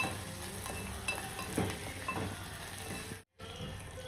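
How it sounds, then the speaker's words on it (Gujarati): Cumin seeds sizzle as they are sautéed in a pan for Maharashtrian thecha chutney, a steady close crackle with faint stirring, cut by a short silence near the end. "જીરું નાખી દેવાનું થોડું સાંતળી નાખવાનું"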